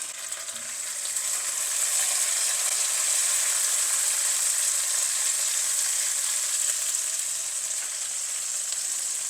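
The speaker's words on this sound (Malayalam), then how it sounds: "ഇതൊന്ന് കുറച്ച് മൂക്കട്ടെ ഒരു പകുതി മൂക്കുന്നിടം വരെ വെയിറ്റ് ചെയ്യണം" Oil fries in a pan for Kerala-style gooseberry pickle, giving a steady, close, bright hissing sizzle that holds evenly throughout without any talk.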